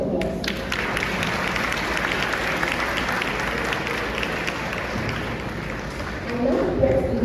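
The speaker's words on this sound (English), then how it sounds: "Let us give them a huge round of applause." An audience at an IIM Visakhapatnam panel discussion breaks into sustained applause for the panelists, dense and fairly loud clapping from many hands with a murmur of voices mixed in, swelling slightly near the end.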